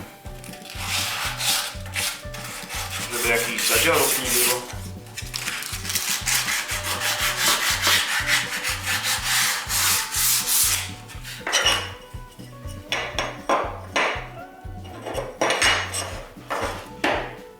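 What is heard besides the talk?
sanding edges with sandpaper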